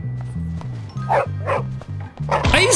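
A dog in the video game Bully barks repeatedly in a rapid, loud series of yips and bow-wows, with the player's voice talking over parts of it.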